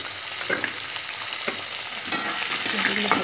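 Onions frying in hot oil in a pan, a steady close sizzle with a few sharper stirring scrapes and crackles, heard alone without talk.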